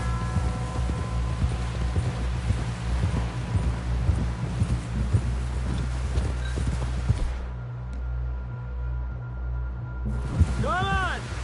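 Horse hooves clip-clop at a steady walking pace in the Western video game Red Dead Redemption 2, with a busy, continuous mix of game sound and a brief whinny-like tone near the end.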